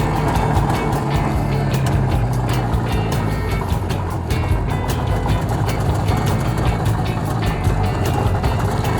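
An old IZh Jupiter 2 motorcycle is ridden, its two-stroke engine crackling in a continuous, busy rattle with wind rush, loud and close throughout.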